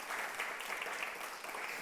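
Congregation applauding during a Spanish-language Sunday church service, a steady wash of many hands clapping at moderate level with no voices over it.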